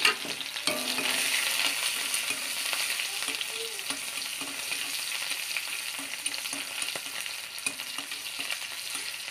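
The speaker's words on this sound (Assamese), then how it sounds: "তেলখিনি গৰম হৈ গৈছে। তাৰপিছত দিব লৈছোঁ পিঁয়াজ এটা, কাটি থোৱা পিঁয়াজখিনি ঢালি দিছোঁ।" Chopped onions tipped into hot oil for a fish curry fry with a constant bright sizzle. Light stirring taps come through at a steady, moderate level, and no one talks.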